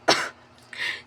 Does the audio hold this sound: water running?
no